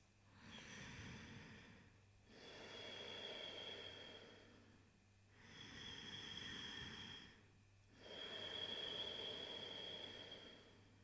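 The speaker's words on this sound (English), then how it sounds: "there's this special kind of breath called Ujjayi breath, which sounds a little bit like this" Slow, deep Ujjayi breaths drawn through the nose with a soft throaty rasp, about four long inhales and exhales in an even rhythm, close and quiet.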